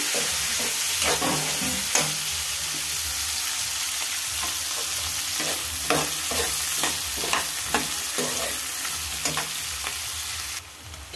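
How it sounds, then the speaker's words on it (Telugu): Chopped onion pieces frying in hot oil with fried dried-fish heads, Andhra-style cooking, a steady close sizzle broken by repeated scraping stir strokes throughout. "దీంట్లో ఉల్లిపాయ ముక్కలు వేసుకుందాం. ఇది కూడా ఫ్రై చేసుకుందాం."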